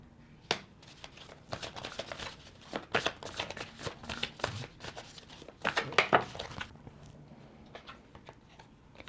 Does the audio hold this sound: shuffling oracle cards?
yes